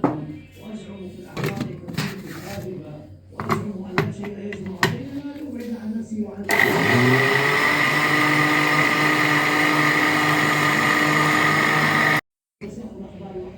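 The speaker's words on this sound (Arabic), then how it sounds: "عشان نضربه في الخلاط" After a stretch of talking and clinking, a blender mixing chocolate cake batter of sugar, milk and cocoa starts up and whirs loudly and steadily for several seconds before cutting off abruptly.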